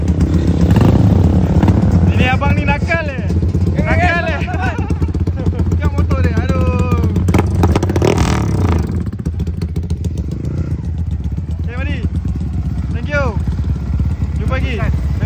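Motorcycle riding on a road trip to Melaka, the engine droning steadily and close with rising and falling revs, while voices chatter and call out over it.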